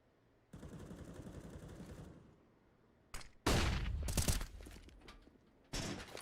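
Gunfire in a CS:GO pro match on Vertigo between Eternal Fire and 9INE, coming as loud, dense bursts of shots separated by quieter gaps, with a final burst near the end.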